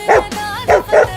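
A dog barks loudly and close by, three sharp barks in quick succession with a brief whine between them, no talking over it.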